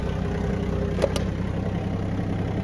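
A Japanese tractor engine runs steadily under load, a continuous low mechanical drone with a constant rhythm and a couple of brief clicks, heard close with no talking.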